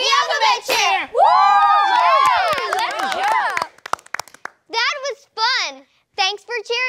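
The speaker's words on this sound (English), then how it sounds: "Thanks for cheering with us." Children shout and cheer in an excited burst with a little clapping, followed by short high-pitched cries from young kids, close and loud in a playroom setting.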